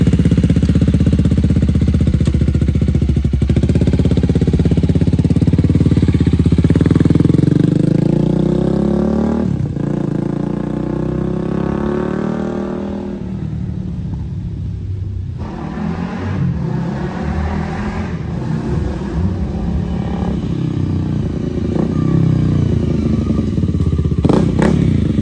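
A Honda Rebel motorcycle fitted with a Coffman's exhaust with a silencer rides through a parking lot, loud and close, with a rumbling engine that revs up and shifts gears through acceleration before easing off and pulling away, steady and without talk.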